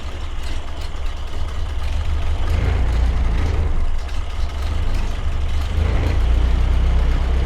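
A 1929 Ford engine idles with a steady low rumble that runs unevenly as it begins to falter and die, near and fairly loud, with no talking.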